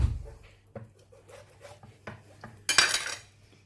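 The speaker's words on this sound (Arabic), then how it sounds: "فوالا الصدر نفلحو الصدر حتى هو" A knife cuts slits into a raw chicken breast on a board before oven roasting, producing close, scattered scraping and tapping sounds with one louder rasping scrape near the end; no one speaks.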